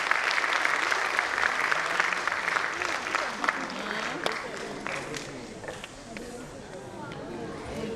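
Audience applause at a school annual day performance, steady clapping from a crowd that gradually thins out, with voices talking over it toward the end.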